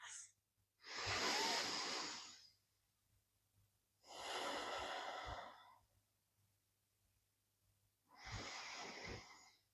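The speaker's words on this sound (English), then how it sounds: "deep breaths." Deep breathing during yoga practice: three slow, full breaths, each a long airy rush of air lasting over a second, separated by quiet pauses, close and clear with no talking.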